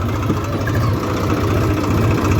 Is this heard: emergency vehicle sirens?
no